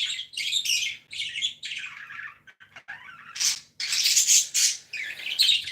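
Several pet birds chirping close by in loud, repeated bursts of bright tweets and squawks with short gaps between them, with no talking.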